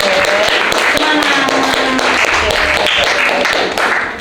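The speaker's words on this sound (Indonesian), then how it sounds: "Oke, tepuk tangannya." Classroom of students clapping hands in unison, a loud, close, steady run of sharp claps with some chatter underneath, lasting several seconds before tapering off.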